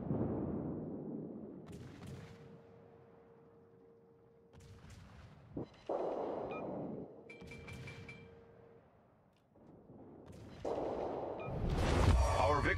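Naval artillery salvos in the warship game World of Warships, several deep booming blasts spaced a few seconds apart, mixed with game tones and bursts of noise, ending in a loud roar.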